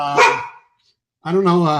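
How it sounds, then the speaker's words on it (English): A dog barks twice, close and loud, a sharp bark followed after a short silence by a longer, tonal bark. "Sorry about the dog."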